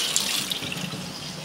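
Hot water pours steadily while someone cooks, a brief, even splashing stream at close range with no voices.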